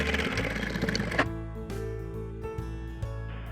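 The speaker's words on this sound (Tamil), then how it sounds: "ஆப்போசிட் சைடில் இருக்கிறதையும் நம்ம ஒரு தையல் போட்டோம்." Sewing machine stitching a cloth bag, a fast steady whirring rattle up close that stops after about a second, followed by a low electric hum and a few light clicks.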